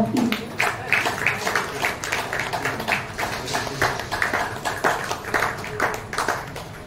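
An audience at a Shivrajyabhishek celebration gathering claps steadily for several seconds, a dense patter of many hands with a slightly rhythmic pulse, some voices murmuring underneath.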